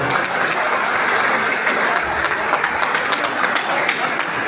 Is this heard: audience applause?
yes